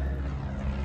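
A propeller airplane passes overhead outside a garage workshop, a brief steady low engine drone, distant and unbroken.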